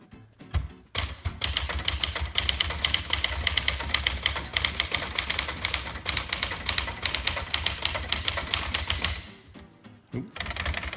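A 1962 Smith Corona Tower Citation 88 manual typewriter is typed on steadily, producing a dense, close, rapid run of sharp key strikes that carries on for several seconds and then stops briefly before resuming.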